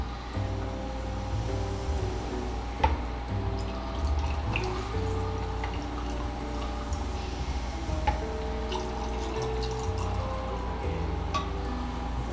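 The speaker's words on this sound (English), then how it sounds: "now we're going in with half a cup of seltzer water." Seltzer water is poured into cups over ice and lemonade, a steady fizzing, trickling liquid sound with a few faint drips and clicks, close and continuous.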